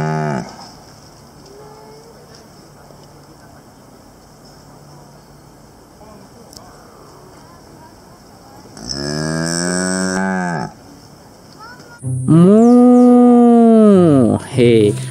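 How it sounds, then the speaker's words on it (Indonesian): A cow moos loudly twice, a long drawn-out call followed by a second, louder bellow, standing out over a quiet, muffled background. "Ini adalah sapi."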